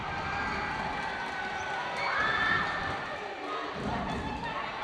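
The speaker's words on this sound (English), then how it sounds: "Listen to the crowd." A crowd cheers and shouts in a school gym during a high school volleyball match, producing a steady, loud roar that swells briefly in the middle, with an announcer talking over it.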